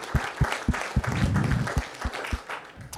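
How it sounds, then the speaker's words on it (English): Applause at a village board meeting honoring a fire department employee's 20 years of service, with a few loud, distinct nearby claps punctuating a fuller burst of clapping from a small room. "Round of applause for Patrick."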